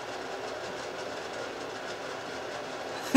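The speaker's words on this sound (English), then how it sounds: "We have light. We have fan." A newly installed bathroom exhaust fan runs with a steady, even whoosh at moderate level, closing with a sharp click at the very end.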